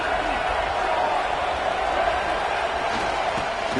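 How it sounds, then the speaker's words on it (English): A stadium crowd at a USC versus Mississippi State college football playoff game roars in a steady, dense wash of cheering and noise, with a commentator's voice running over it. "Listen to the crowd energy here in the early going."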